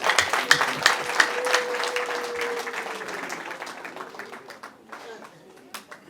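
Audience applause at a wedding celebration, a burst of clapping that swells and then gradually thins out over several seconds, with a voice speaking over it.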